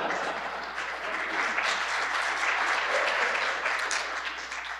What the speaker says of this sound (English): if you're a graphics programmer, you can clap.